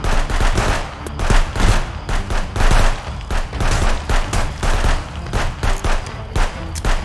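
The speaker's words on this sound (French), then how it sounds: "Wow, les gars, ça tire!" Dense automatic gunfire from shootouts in the video game Contraband Police, loud and sustained, with rapid bursts and individual shots packed closely together for the full stretch with barely a pause.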